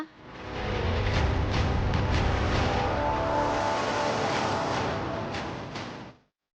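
A bus engine rumbles steadily with broadband road noise, holding a constant level for several seconds before cutting off abruptly.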